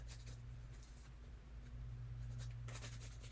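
Crayon rubbing on paper in a junk journal, adding dirt-like texture along an envelope's edge, a soft close scratching in short strokes.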